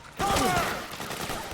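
Suppressing gunfire in the Metal Gear Solid 4 video game breaks out as a sudden loud fusillade, then tails off into scattered rattling shots, with shouted voices mixed in.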